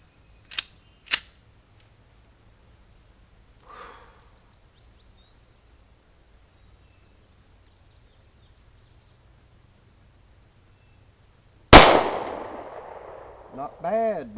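A Taurus G2S pistol fires Winchester white box 115 grain target ammo, with a few sharp, loud shots spaced irregularly over a quiet stretch and a constant high electronic whine underneath.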